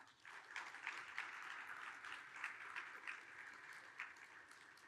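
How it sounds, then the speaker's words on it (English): Conference audience at a Rust programming event applauding, a fairly quiet, even wash of clapping from a crowd heard at a distance, lasting several seconds without voices. "Let's give all three of these groups a round of applause"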